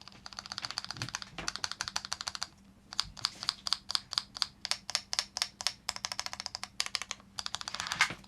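Keys on a custom-built mechanical keyboard clack in quick bursts of rapid, crisp taps, pausing briefly between runs, close and loud with no talking.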